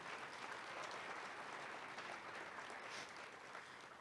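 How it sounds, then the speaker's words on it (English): Sustained applause from an audience at a high school athletic hall of fame ceremony, steady dense clapping that stays even and moderately distant throughout. "So let's give a big round of applause to those guys."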